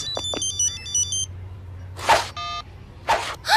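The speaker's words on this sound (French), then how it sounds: "C'est la sonnerie de Red Button." Red Button's ringtone from the animated series Sally Bollywood: a quick electronic beeping melody at the start, then separate bursts of bright tonal beeps alternating with short hissy noises, all clear and close.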